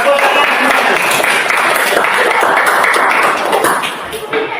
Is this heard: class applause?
yes